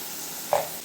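Potatoes frying in a pan make a soft, continuous sizzle, with a short brighter burst of crackle about halfway through, heard close and alone.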